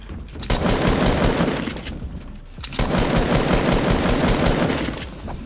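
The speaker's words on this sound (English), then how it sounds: "I love the sound of just getting headshots in this game" Rapid automatic gunfire in Fortnite Battle Royale rattles in two long, loud bursts separated by a brief pause, with no talking over it.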